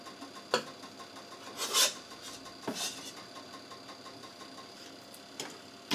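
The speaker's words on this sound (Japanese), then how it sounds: "材料を切っていきます。" A kitchen knife cuts ingredients for a home-made pasta dish, producing a few sparse, scraping chops and strokes against a quiet background hum.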